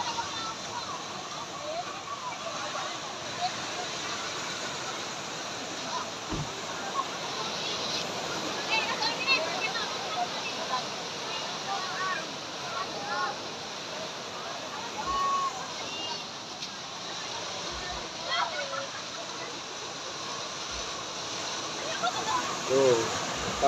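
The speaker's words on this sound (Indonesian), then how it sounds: "Anak-anak sedang bermain di pantai dengan asik riangnya bergelut dengan ombak." Waves wash steadily onto the sand at Anyer beach near sunset as children play in the surf, a continuous broad rush of surf with faint voices mixed in.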